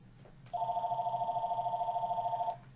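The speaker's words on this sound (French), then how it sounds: "le téléphone qui sonne" A telephone rings in one steady, continuous electronic warble lasting about two seconds, clear and fairly close, with no talk over it.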